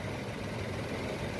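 A Hyundai Grand i10 diesel engine idles with the air conditioning switched on, giving a steady, continuous low rumble with a faint fan-like hiss. There is no speech.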